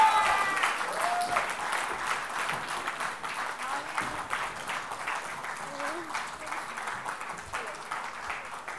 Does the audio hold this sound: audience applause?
yes